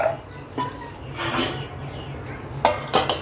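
A pan of mixed bitter gourd gets covered with a lid: a few separate metallic clinks and clatters of metal on metal, close and moderately loud, spaced over a few seconds with a quiet kitchen room tone between them.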